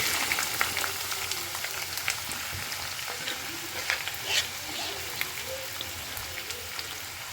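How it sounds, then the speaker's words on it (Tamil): Sliced onions frying in hot oil for a restaurant-style cherry tomato kurma, a steady dense crackle with sharper pops and occasional stirring scrapes, close and fairly quiet, no voices. "இப்போ நம்ம இதை அப்படியே எண்ணெயில் போட்டுடலாம்."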